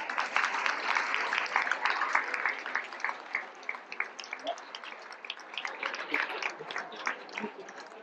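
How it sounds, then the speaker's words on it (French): Applause at a staff ceremony at a clinic in Malestroit honoring employees and retirees, for five women being recognized; a moderate crowd claps steadily, gradually thinning and loosening toward the end. "je pense qu'on peut les applaudir."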